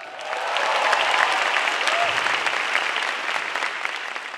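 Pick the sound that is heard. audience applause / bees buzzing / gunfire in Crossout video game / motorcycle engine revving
audience applause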